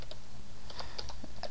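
Quick keystrokes on a computer keyboard, a short run of light clicks and taps at an uneven typing rhythm, close and clear with no voices.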